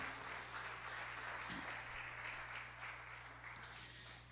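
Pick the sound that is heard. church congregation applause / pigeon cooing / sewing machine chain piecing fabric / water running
church congregation applause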